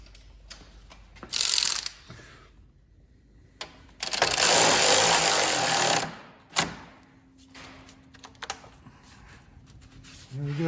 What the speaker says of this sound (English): Go ahead and bolt down the hold down.